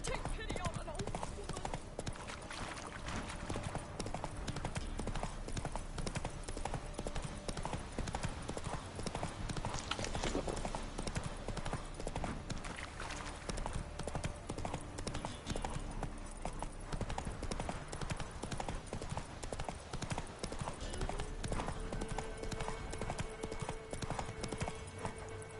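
Horse hooves clip-clop steadily while riding in The Witcher 3, a continuous rhythmic trot heard under game voices and a music bed throughout.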